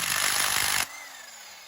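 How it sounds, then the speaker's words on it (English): An impact wrench works on bolts of a 2001-2005 Honda Civic during engine removal, a loud rattling burst that stops abruptly after under a second, leaving a quiet tail. "so now we get our impact wrench"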